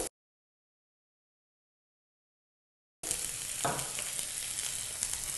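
Onions and green chilies fry in hot oil for potato korma, a steady close sizzle that begins abruptly after a stretch of silence and continues evenly, with a brief stir.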